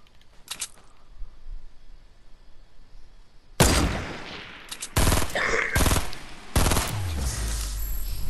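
Loud, close bursts of automatic gunfire from a shooter video game break out after a quiet stretch, with several long rapid volleys that follow one another.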